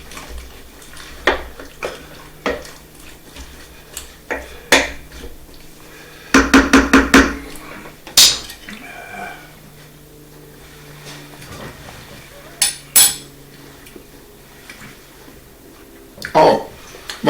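Stirring potato au gratin mixture in a pan with a utensil, giving scattered scraping clinks and a few louder bursts, with someone talking over it in a home kitchen.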